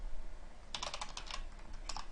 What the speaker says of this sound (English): I bet some of you are probably giggling at my horrible typing.